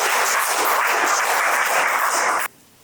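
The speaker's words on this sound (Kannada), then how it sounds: "ಅವರಿಗೆ ಒಂದು ಚಪ್ಪಾಳೆ ಮೂಲಕ ಸ್ವಾಗತ." Schoolchildren clapping in welcome for a visiting artist, loud sustained applause from a group that stops abruptly near the end.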